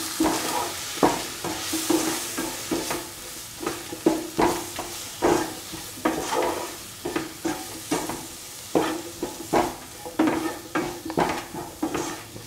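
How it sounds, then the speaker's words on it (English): Mixed vegetables for a homemade stew sauté with turmeric and salt in a pan, a soft sizzle under repeated rhythmic scrapes and clinks of a spoon stirring against the pot, fairly close and moderate in level. "Saute and mix."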